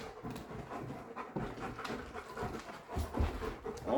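Two dogs, Benji and Emmy, panting rapidly and close, with short whimpers and shuffling mixed in, the breathing rhythm continuing throughout at moderate volume.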